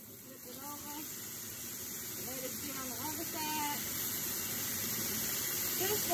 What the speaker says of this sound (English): It helps with the cooking process a lot when you sear it up first.